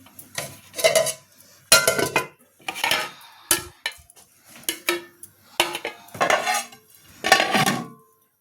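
A metal spoon scrapes and clanks against a pan while paneer fried rice is tossed and mixed, in irregular bursts of clattering strokes separated by brief pauses, close and fairly loud.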